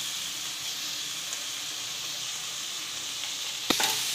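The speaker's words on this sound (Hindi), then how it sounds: "इसमें प्याज और पत्ता गोभी दोनों को काट डाल के और भूनेंगे, ढक के भूनेंगे।" Onion and cabbage frying on a medium flame give a steady, close sizzle throughout, ending in a brief louder clatter near the close.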